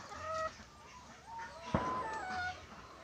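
Rhode Island chickens clucking close by on a small egg-laying farm, a few short clucks and calls in bursts with a sharper squawk midway, over quiet outdoor background.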